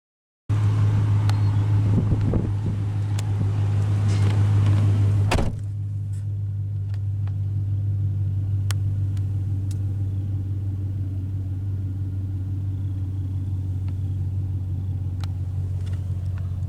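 A 2002 Chevrolet Silverado 1500 LS extended cab with its 5.3-liter V8 idles with a steady low hum, close by, while a couple of brief clicks and a thump from the cab come early on.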